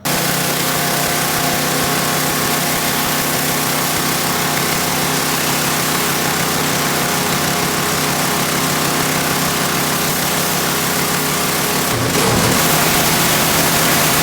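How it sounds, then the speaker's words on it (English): A pressure washer roars continuously and loudly up close while cleaning a BBQ smoker, a dense hissing spray over a steady motor drone, with a short shift in tone near the end. "now I'm gonna hit this with a pressure washer, give it one final cleaning"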